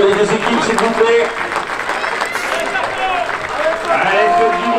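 Football supporters at a regional R1 match between US Saint-Omer and US Noeux clap for the two teams in a stadium, crowd applause under an announcer's amplified voice and nearby chatter.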